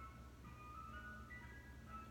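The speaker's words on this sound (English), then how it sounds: "the ice cream truck is going by" An ice cream truck passes by outside, its tinny tune chiming faintly and steadily over a low engine rumble in the distance, with no voices.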